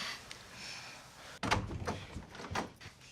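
A door is pushed open by someone entering unannounced, with a sharp thud followed by a few clattering, rattling knocks from the door and its frame, close and moderately loud, with no talking.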